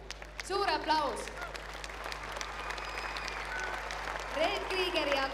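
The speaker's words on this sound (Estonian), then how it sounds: "Suur aplaus." An audience at a gymnastics festival in Tartu breaks into broad, sustained applause after a performance, with a presenter speaking over the start and end of the clapping.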